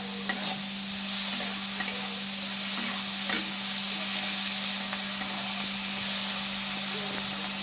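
Onion and garlic paste fries in a pan while being stirred, a steady sizzling hiss with soft scraping stirs throughout and a low background hum.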